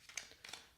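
Tarot cards being shuffled during a card reading, a few quiet, quick papery riffles and flicks in brief soft bursts, close and alone.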